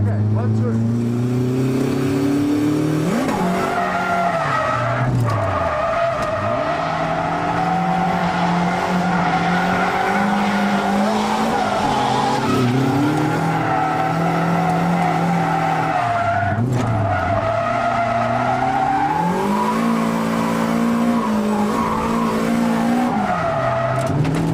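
A car drifts around a corner, its engine revving up and down as the clutch is kicked while the tires squeal in long, wavering howls, loud and close throughout.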